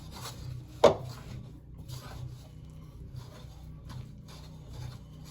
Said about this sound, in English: I'm going to just mix this together until there's not any dry bits left.